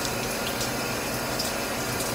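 Water runs steadily from an outdoor shower at a beach house, a constant close hiss and spray with no breaks and no talking.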